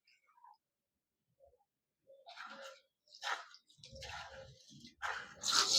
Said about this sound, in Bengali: জল দিয়ে 2-3 বারের মতন জল পাল্টে পাল্টে ধুয়ে নেব।